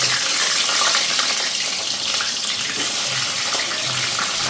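Tap water runs steadily and loudly into a sink while meat is washed in a home kitchen, with faint clatter underneath and no talking.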